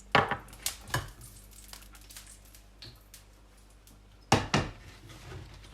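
A knife chops a bell pepper on a kitchen board in bursts of close, crisp strokes, with a pause before a final quick pair of cuts and a low background hum.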